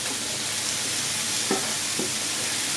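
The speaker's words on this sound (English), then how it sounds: "The onions are sauteing nicely, so I'm putting like almost 2 cups" Onions and spinach sizzle and fry in a hot pan over medium-high heat, a steady close hiss broken by a couple of brief stirring scrapes.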